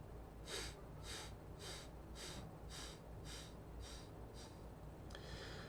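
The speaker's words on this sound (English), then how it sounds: "And then you exhale out 8 sniffs." Eight short, evenly spaced nasal puffs pushed out one after another as a breathwork exhale, close and soft over a steady low hum, with a brief rustle at the end and no talking.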